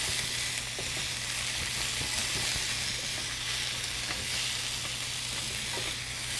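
Bok choy and other food sizzling hard as it is stirred around a hot pan, a dense continuous fry with scattered scraping taps of a utensil, nothing else heard.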